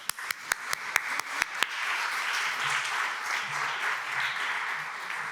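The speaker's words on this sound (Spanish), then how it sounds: "Un aplauso." An audience claps at a challenge-solving workshop, opening with a few sharp individual claps and swelling into steady, moderately quiet applause that carries on for several seconds.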